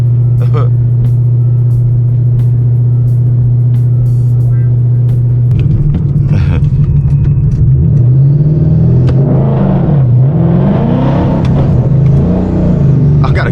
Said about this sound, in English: It's been so long since I launched this car, yo. That was a terrible launch.